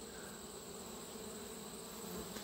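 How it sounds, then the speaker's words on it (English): Robber honey bees swarm and buzz around a gap in a commercial beekeeper's hive, a steady, dense, close droning hum that holds unbroken throughout with no talking. "you see the robbers, anytime you have bees that want to go into a gap in your hive"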